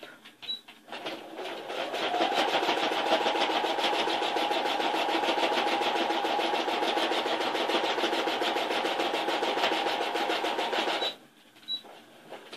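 A sewing machine stitching a small bag runs in one long continuous burst of rapid, even mechanical rattling, close and steady, after a brief pause at the start and stopping abruptly near the end.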